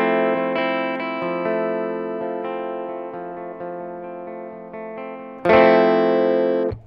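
Clean electric guitar tone through a pedalboard: a run of picked single notes with ringing sustain, followed by a louder, brighter strummed chord near the end, alone with no talk.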